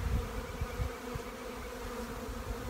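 Honey bees in an open hive, with brood frames of larvae and eggs, a dense continuous buzzing hum close by with no talking.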